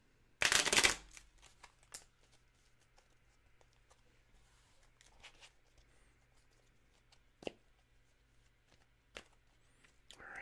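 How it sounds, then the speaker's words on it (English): A deck of Magic: The Gathering cards is riffle-shuffled close to the microphone in a single loud, dense burst near the start, followed by soft taps and light card handling in a quiet room. "Shuffle it up like that."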